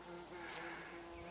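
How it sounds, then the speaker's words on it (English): A steady, soft buzzing of honeybees on trees in Newfoundland drones on continuously, with no voices present. "Lots of bees on the trees"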